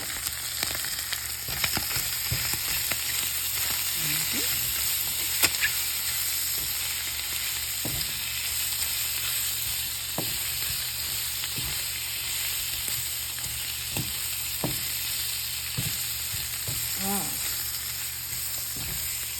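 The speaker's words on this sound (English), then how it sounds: "Fry it nicely." Quail eggs fry in a pan for a breakfast dish, giving a steady, close sizzle that runs throughout, with occasional soft clicks and pops and no talking.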